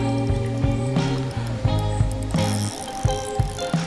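A fishing spinning reel being cranked on a rod blank, a steady close mechanical whir with rhythmic ticking of the gears under a continuous humming drone.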